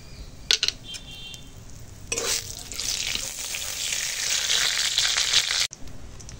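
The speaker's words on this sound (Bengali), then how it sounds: "কড়াই অল্প করে তেল দিয়েছি, আর এখানে আছে গোটা জিরে, তেজপাতা, শুকনো লঙ্কা ফোড়নে দিলাম" Whole cumin, bay leaf and dried red chilli hit a little hot oil in a kadai for a tempering: a few sharp clicks, then a loud, bright sizzle that swells and holds for several seconds before cutting off abruptly.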